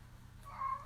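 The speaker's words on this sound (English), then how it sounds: "You might hear him meowing during this." A cat gives a single short meow at close range, rising briefly over a quiet room background.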